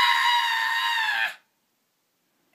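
A voice imitates a creaky, squeaky, squealy scream: one loud, high, sustained shriek lasting over a second that cuts off sharply into silence.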